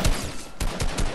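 Rapid bursts of Fortnite gunfire, several close, loud shots in quick succession over about a second, with a few distinct cracks standing out from a continuous roar.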